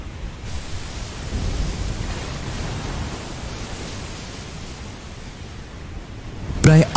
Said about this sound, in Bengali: বাইরে তখন শুধু ঝড়ের গর্জন আর টিনের চালের বিকট শব্দ।